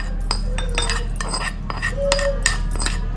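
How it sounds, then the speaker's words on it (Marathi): A spoon stirs and scrapes through a cucumber salad with yogurt and a cooled tempering in a metal or glass bowl, making repeated light clinks and scrapes at close range, with no talking. "आता ही सर्वत्र मिक्स करून घेऊया"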